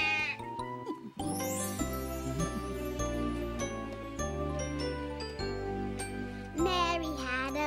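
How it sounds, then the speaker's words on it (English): Sheep bleat in short, wavering calls at the start and again near the end, set within cheerful nursery rhyme music with bright jingling tones. "Little Bo Peep has lost her sheep and doesn't know where to find them"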